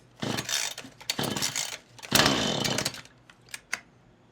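A chainsaw fitted with a replacement HIPA carburetor is pulled over and fires in loud bursts, revving hard in several surges, then sputters and dies away into a few sharp clicks, close up with no talk.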